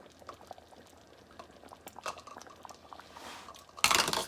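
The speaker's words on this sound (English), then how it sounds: "add a 1/4 cup of your favorite barbecue sauce" A quarter cup of thick Texas Pete's barbecue sauce is poured into a pot of baked beans, making soft wet glugging and bubbling that ends in a sudden loud, splashy burst. No one talks.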